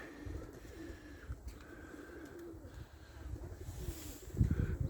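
Racing pigeons cooing in soft, low repeated calls against a steady outdoor background, with a louder burst of flutter or handling noise near the end.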